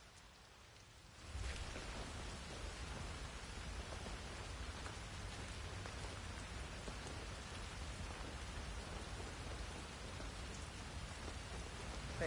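Steady rain falls in Hitman 3, a dense even hiss of drops on surfaces that starts after a quiet second and continues unbroken, with no talk over it.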